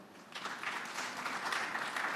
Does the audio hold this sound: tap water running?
no